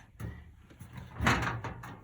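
Tool chest drawer inside a Toyota Sienna camper van slides and bumps shut, a short close rattle and knock with a brief scrape, alone.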